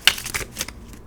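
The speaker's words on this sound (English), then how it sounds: "Let's keep shuffling." A small deck of tarot-style cards being shuffled in a few quick riffling bursts, close and crisp, lasting about a second.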